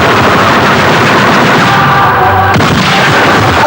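Loud, dense gunfire from a dubbed war film crackles continuously in a rapid barrage, with booming bursts blending into a constant roar.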